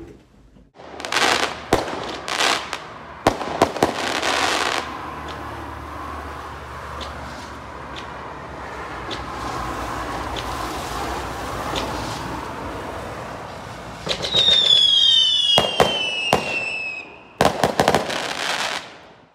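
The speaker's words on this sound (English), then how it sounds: "Fireworks all over outside." Fireworks burst outside after a football match, with sharp scattered bangs and crackles over a steady outdoor hiss, including a rising whistle near the end.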